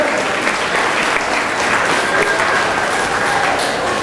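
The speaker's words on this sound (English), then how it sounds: "please give a warm round of applause to Miss Kelsey McIntyre" A crowd gives a warm, sustained round of applause for an honorary duck master, with dense, even clapping close by and no talk.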